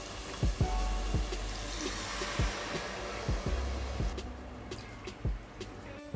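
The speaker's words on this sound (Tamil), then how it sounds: "இப்போ இதில் தண்ணி சேர்த்துக்கலாம்." Water pours in a steady, soft stream onto rice in a pressure cooker for mushroom biryani, then trails off into a few drips and light clinks, close but quiet.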